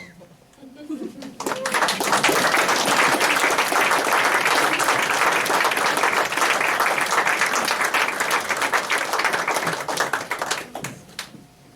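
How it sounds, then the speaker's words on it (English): An audience at a Christmas show bursts into loud, sustained applause that swells quickly, holds as a dense roar of clapping for several seconds, then stops abruptly, with a voice briefly heard at the start. "Thank you so much for the applause."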